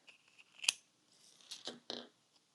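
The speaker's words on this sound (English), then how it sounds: "it cuts super easy, so I just went ahead and cut me a little triangle here." Scissors cut self-adhesive cork into a small triangle. A few crisp snips sound close and quiet, with one sharp cut followed by two more spaced cuts.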